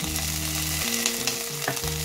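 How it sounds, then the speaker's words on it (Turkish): Pine nuts roast in a hot pan for pilaf, with a loud, dense, steady sizzle and a brief stirring clatter near the end. "ve kavurma işlemine devam ediyorum. Bakın gördüğünüz gibi fıstıklar hemen kavruldu."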